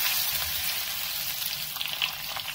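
Bay leaf, dried red chilli, ginger and green chilli sizzle steadily in hot oil in a pan for a Bengali tomato chutney, a close, continuous crackling fry with no talk.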